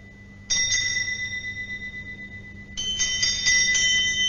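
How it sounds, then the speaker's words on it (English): Bells ring throughout a house in a radio drama of A Christmas Carol, one bright ringing burst starting abruptly and a second, fuller peal joining later, both loud and alone. "But soon it rang out loudly, and so did every bell in the house."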